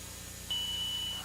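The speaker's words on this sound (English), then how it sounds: "When you open the door and it hit it, the circuit was complete and the buzzer went off." A door-triggered circuit sets off a small electric buzzer, a single steady high-pitched tone lasting under a second over low background hum.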